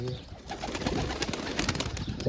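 Pigeons coo in low, throaty murmurs amid a busy, hissing background, close by and fairly continuous.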